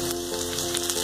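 Vinegar hitting a hot pan of Schezwan fried rice with egg and chicken, a brief crackling sizzle over a steady background hum, close and moderately loud.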